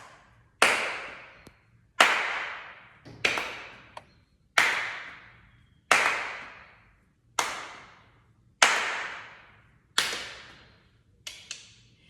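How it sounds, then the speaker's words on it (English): A ball is thrown and caught with claps in an over-50s physio-led PhysioYogaLates class: about eight sharp, separate slaps at a steady pace of roughly one every one to two seconds, each fading quickly, with quiet between them. "You're going to throw the ball, catch with 2 hands for some of you, or catch with 1, or add a clap, or add 2 claps."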